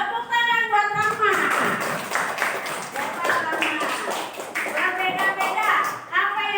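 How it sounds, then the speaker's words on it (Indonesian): Schoolchildren clapping in an Indonesian classroom, a close burst of mixed rhythmic hand claps lasting several seconds, with children's voices and a teacher speaking over and between the claps. "Tepuk tangan buat Rahma."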